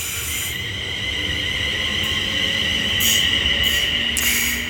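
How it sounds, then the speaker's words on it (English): A London Northwestern Railway service from Euston to Stafford pulls out of Wolverton station on the West Coast Main Line, with a steady close rumble and high, sustained wheel squeal that swells slightly as it departs. "the London North Western Railway service from London Euston to Stafford is now departing"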